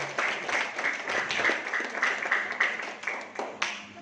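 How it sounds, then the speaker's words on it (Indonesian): An audience applauds for Ibu Dania at a marketing plan presentation, dense steady clapping from many hands nearby, lasting throughout with a few louder individual claps. "aplaus untuk Ibu Dania"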